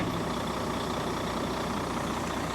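Steady low rumble of a Volvo truck loaded with oats driving along at an even pace, a continuous engine drone with no voices.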